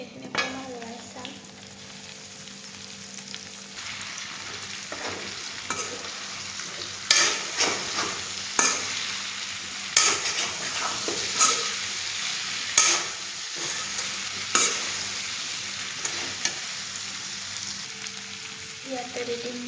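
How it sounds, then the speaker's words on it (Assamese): Chicken fries in a pan with a steady sizzle, punctuated by repeated sharp scrapes and clanks of a utensil stirring it, close and fairly loud. "চিকেনখিনি অকণমান লৰাই চাম।"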